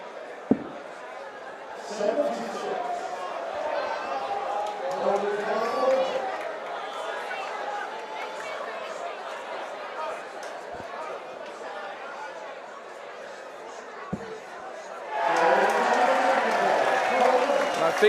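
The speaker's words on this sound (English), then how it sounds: "I think you can hear by the noise of the crowd who their favourite is for this one." Crowd noise at the WDF 2024 World Championship darts, a steady murmur of chatter and cheering that swells into louder crowd noise near the end, with a few sharp knocks along the way.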